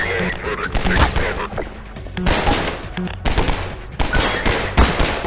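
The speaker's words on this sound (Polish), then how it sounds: "On gdzieś tam strzela do mnie." Enemy gunfire in Half-Life 2, loud rapid bursts of shots in quick succession that keep breaking in, mixed with game noise and a player's voice talking over it.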